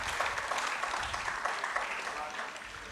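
Audience applause for the artists on stage at a Carnatic music event, a steady, fairly faint wash of clapping that fills the whole short stretch.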